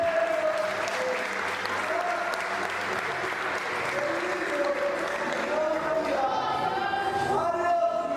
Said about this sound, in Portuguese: quem pode, aplaude e glorifique ao nome de Jesus Cristo